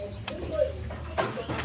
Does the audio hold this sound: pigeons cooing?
yes